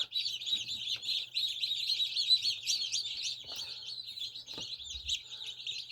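Newly hatched chicks from a first incubator batch at the end of day 20, chirping continuously in a dense, high-pitched chorus of overlapping peeps, close and steady, with a low hum beneath and a few soft knocks.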